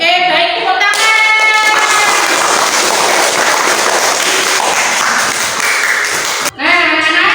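Loud, dense applause from a class of students fills a classroom, steady for several seconds before breaking off abruptly, with brief voices at the start and end.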